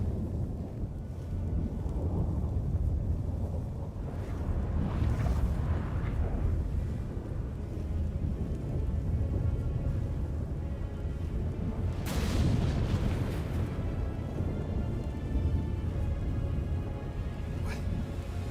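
Thunder rumbles through a stormy scene in The Witcher 3 video game, with a steady low roar and gusting wind, swelling around the middle and cracking into a loud boom partway through, no talking.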